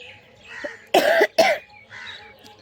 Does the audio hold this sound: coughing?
yes